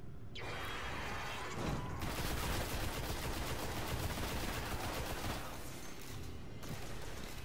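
Sustained rapid gunfire in the video game Destiny, dense bursts of automatic fire filling most of the stretch, loud and continuous with brief dips.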